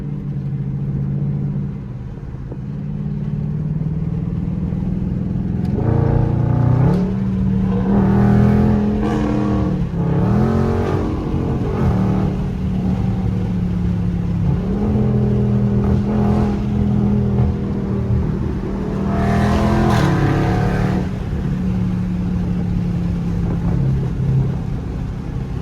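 A 2023 widebody Dodge Charger Scat Pack accelerating hard on a highway, its engine note climbing through several loud revving pulls with brief dips at the gear changes, heard from inside the cabin with road and wind noise underneath.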